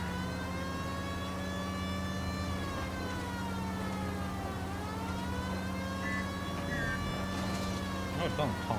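A police car siren wails continuously in the video game L.A. Noire, loud and steady with rising and falling tones over a low engine drone, sounding close throughout.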